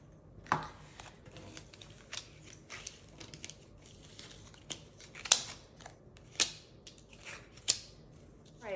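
A deck of tarot cards is shuffled close by, with soft papery rustling punctuated by sharp, irregular card snaps and riffles spread across several seconds, no talking.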